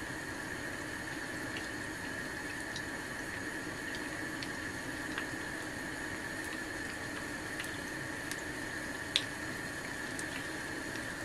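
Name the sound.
cooked food draining, liquid dripping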